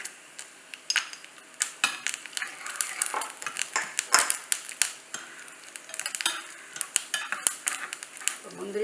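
Rapid scraping and clinking of a spoon against a pan as cashews and coconut are stirred, over a soft, continuous sizzle of frying ghee.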